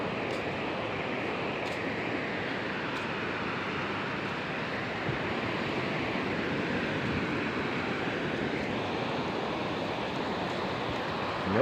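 Ocean surf rolls in at Bagasbas Beach, a continuous broad roar of breaking waves mixed with wind, steady and fairly loud throughout with no speech.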